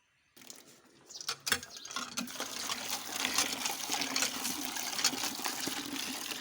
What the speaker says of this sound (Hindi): अब हम पानी भर रहे हैं और उसके बाद हम मशीन में पानी डालेंगे